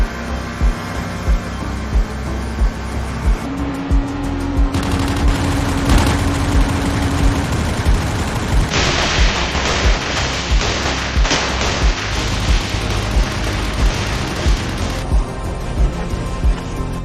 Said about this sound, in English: Bora metralhar ele primeiro.